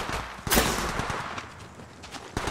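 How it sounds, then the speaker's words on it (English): Gunfire in the mobile battle royale Apex Legends Mobile, a sharp loud burst around the half-second mark followed by scattered shots and clatter over a busy game soundscape. "Shots fired at me."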